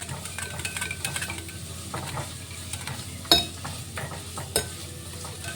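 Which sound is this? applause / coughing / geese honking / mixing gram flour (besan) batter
mixing gram flour (besan) batter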